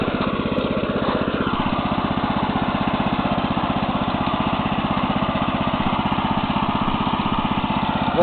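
A Neva MB-2 walk-behind tractor engine runs steadily while tilling, breaking in the engine, a loud, close, continuous pulsing drone with a fast regular firing beat and no talking.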